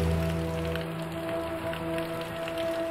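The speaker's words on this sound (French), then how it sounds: "c'est mal parti parce qu'il commence à pleuvoir là" Rain beginning to fall on a mountain hike near Mont Blanc, a steady soft patter that holds evenly throughout with no voices.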